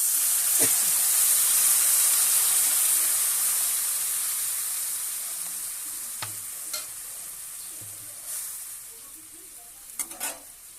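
Water pours into a hot pan of fried fish bones and Malabar spinach greens, setting off a loud steady sizzle and hiss that slowly fades, with a few clinks of a spoon stirring near the end.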